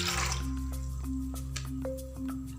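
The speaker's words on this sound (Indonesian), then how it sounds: "Masukkan air." Water being poured from above into a cooking pot on a lit stove, a faint close splash and drip with soft liquid gurgle, short and alone.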